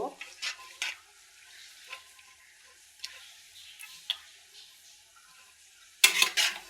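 Bottle gourd and shrimp curry with garlic stirred in a pan, with scattered scraping clicks of the spoon over a soft background sizzle and a louder burst of scraping at the end.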